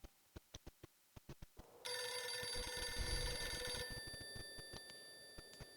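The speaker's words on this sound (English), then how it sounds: "I'll shut up for the phone call." An in-game telephone rings in a video game, a bright electronic trill lasting about two seconds and overlapping a low rumble, set among soft sharp clicks before and after, with no speech.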